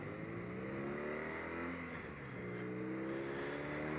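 Engine of a 2018 BMW R nineT motorcycle, a 110-horsepower boxer twin, revving steadily with smooth, rising and falling harmonic tones throughout, close and continuous with no talk.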